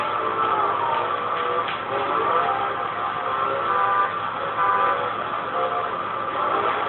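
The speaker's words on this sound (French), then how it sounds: "c'est moi qui viens de klaxonner" A car horn honks in the video game Crash Time 4 amid continuous engine and road noise, the tones mixed into a steady, loud driving din with no talking.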